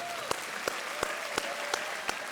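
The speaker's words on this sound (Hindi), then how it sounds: "और तालियां बजती रहनी चाहिए।" A studio audience on a quiz show claps steadily, with a faint voice and regular sharp clicks under the applause.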